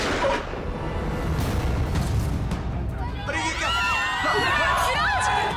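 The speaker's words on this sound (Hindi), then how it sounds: "अरे गोली चली" A loud burst like a gunshot booms amid crowd commotion, then excited voices and shouts rise over the rumbling noise.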